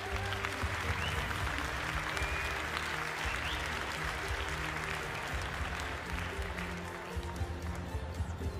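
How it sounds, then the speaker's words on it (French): Sustained crowd applause around the show ring at a Montbéliarde cattle competition, honoring four cows, a dense steady patter over a low background hum. "Donc je crois qu'on peut déjà applaudir ces quatre animaux d'un tel niveau."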